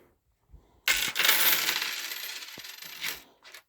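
A handful of coins are dropped into a salt and vinegar mixture, making a close, bright clattering cascade that lasts about two seconds before tapering off, followed by a couple of faint clinks.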